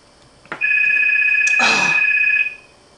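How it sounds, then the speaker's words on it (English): A telephone rings once indoors with a steady electronic tone lasting about two seconds, preceded by a click and briefly overlapped by a rustling noise. "of course, the phone would ring while I'm here."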